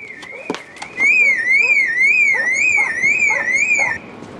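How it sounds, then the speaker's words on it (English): A car alarm goes off nearby with a loud warbling, rising and falling electronic siren that repeats steadily for several seconds, preceded by a couple of sharp clicks. "It's the car alarm, love."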